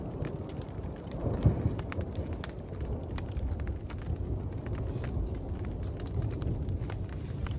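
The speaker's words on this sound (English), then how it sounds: "Thunderstorm's coming." An approaching thunderstorm rumbles over the western Catskills outdoors, low thunder rolling with one stronger clap early on and steady rain with scattered drops pattering nearby, faint overall and with no talk.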